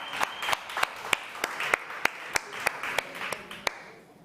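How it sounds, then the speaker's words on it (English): Audience applauding a speaker at a South Summit conference stage, a soft wash of clapping with sharp, evenly spaced claps standing out in a steady rhythm before fading away. "give them a big round of applause"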